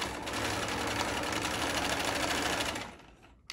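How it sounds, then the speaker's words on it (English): A sewing machine stitching a canvas seam for a hot tent, a steady close whirring drone lasting about three seconds before winding down. "you do a stitch along this edge."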